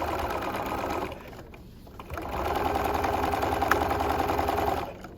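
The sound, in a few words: sewing machine stitching bucket hat top to crown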